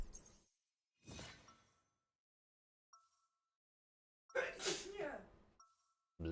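A single short sneeze bursts out in a quiet room during a gaming session, followed by brief, faint clinks and a couple of other short vocal sounds separated by silence.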